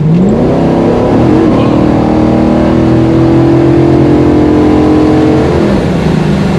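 A 1970 Boss 429 Mustang with a 750-horsepower V8 accelerates hard, its loud, close engine roar climbing steadily in pitch before easing off near the end.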